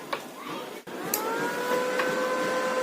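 An Esab Expert Weld 200 welding machine clicks on, then its cooling fan whirs up into a steady hum with faint whining tones, running close and continuous.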